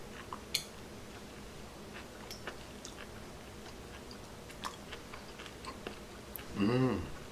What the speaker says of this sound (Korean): 자, 마지막으로는 지느러미 뼈 다진 것을 먹어봅니다